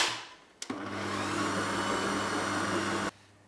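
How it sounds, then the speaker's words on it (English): A stand mixer with a paddle attachment whirs steadily as it beats treacle loaf batter, starting after a click, running evenly for a few seconds, then cutting off. "we'll pop this onto the mixer and mix it with a paddle mixer for a good 2 minutes"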